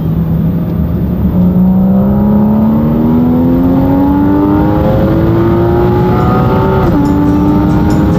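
A race car engine at the Savoie Cup 2015 revving steadily upward in pitch, loud and close, with a brief drop at a gear change near the end, alone with no talk.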